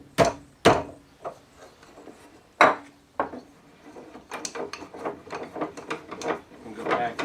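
Wooden workpiece clamped in a chain leg vise, with sharp knocks and clunks of wood against the jaws followed by a run of quicker clicks and rubbing taps, close and fairly loud.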